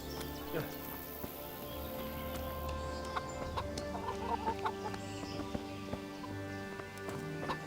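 A chicken clucks and horse hooves clip-clop in the medieval video game Kingdom Come: Deliverance, faint scattered clucks and hoof clops under a quiet village ambience with people talking.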